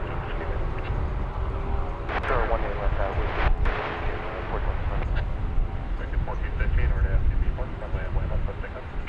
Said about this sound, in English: Just pause this for a second so we can see the colorful Viva Aerobus taking off.